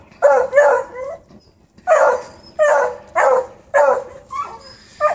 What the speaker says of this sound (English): That's what beagle puppies ought to be.